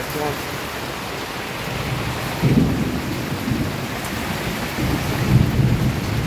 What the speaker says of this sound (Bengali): বিদ্যুৎ চমকাচ্ছে চতুর্দিকে